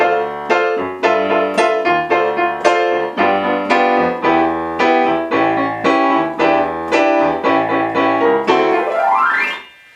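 Keyboard chords play a syncopated cha-cha rhythm that repeats steadily, then finish with a rising sweep.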